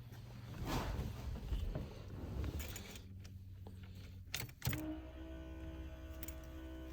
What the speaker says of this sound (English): That's my electric fuel pump.